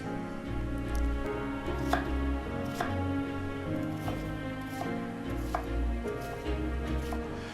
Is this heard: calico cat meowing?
no